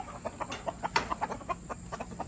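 Free-range Americana and Maran hens with an olive egger rooster clucking in quick repeated bursts as they leave their pen, a steady run of nearby calls at moderate volume.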